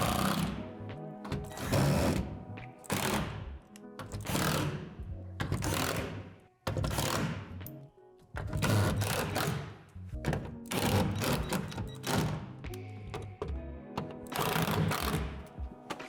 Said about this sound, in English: Secure the gable to the side panels with the 8 screws.